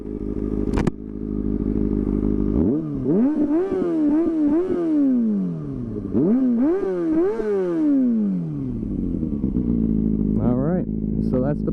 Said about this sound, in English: let's hop on this, hear a start up, a couple of revs